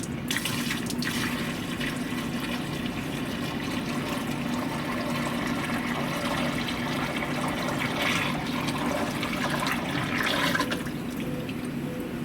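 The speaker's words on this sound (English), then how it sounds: "Pour the contents down the drain." Liquid waste from a flow cytometer's waste tank poured down a sink drain, a steady continuous splashing gush of water lasting throughout, close and fairly loud, with no talking.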